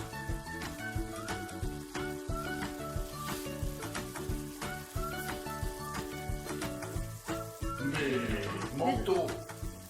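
Squid mantles sautéing in a hot pan, a steady crackling sizzle beneath rhythmic clattering and background music, with a voice speaking French throughout and the frying growing louder near the end.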